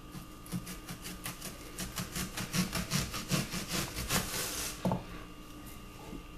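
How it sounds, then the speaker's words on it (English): A knife cuts onions into half-inch rings on a cutting board, giving a close, rhythmic series of crisp chopping taps and crunches that slows toward the end. "this is the way you want to cut your onions, like this."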